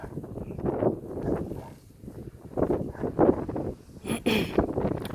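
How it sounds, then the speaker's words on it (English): Gusty wind on an exposed hilltop buffets the microphone in uneven rumbling bursts, rising and dropping over a few seconds, loud and close. "Sorry it's so windy out here, but I live on top of a hill."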